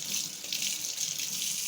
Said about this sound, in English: So let me rinse my hands right quick.